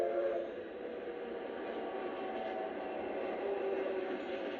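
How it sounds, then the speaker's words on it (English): Santa Fe steam locomotive ATSF 3751 rolls through Pasadena toward Union Station, a steady, fairly close rumble and clatter of the passing train with faint tonal ringing, continuous for the whole stretch and no voices. "Here, the locomotive runs through Pasadena on its way to Union Station to begin the journey."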